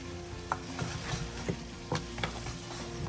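Masala for goat head curry fries in a pot with a soft, steady sizzle, punctuated by a few distinct spoon knocks and scrapes against the metal, no voices.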